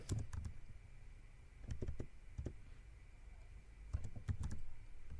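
Fingers type on a computer keyboard while an online application form is filled in, producing quiet clusters of close clicks with short pauses between bursts.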